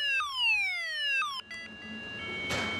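A forklift proximity alert alarm sounds in a series of loud electronic tones, falling and then repeating, followed by a sustained high beep with faint background noise, no voices.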